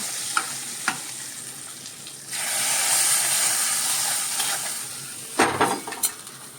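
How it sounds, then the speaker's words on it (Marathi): Loud sizzling and hissing from a hot pan as tempering is poured into a colocasia leaf curry after a couple of soft clinks, with stirring and a scrape of utensils near the end. "पुन्हा छान ढवळून घ्यायचं सगळं"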